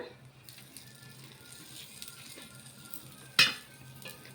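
Oil drizzled over a wheat rava dosa cooking in a pan gives a faint, steady sizzle, with a sharp clink of a utensil near the end.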